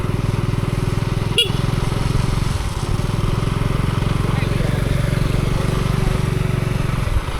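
A motorcycle drives along a broken village road in the rain, its engine droning loudly and steadily throughout with one sharp knock partway through.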